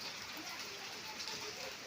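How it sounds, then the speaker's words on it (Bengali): Steady rain falls outdoors with water pooling on the ground, a dense, even hiss of drops close by that holds constant throughout with no talking. "ওয়েদার ভালো বৃষ্টি হচ্ছে জল দাঁড়িয়ে"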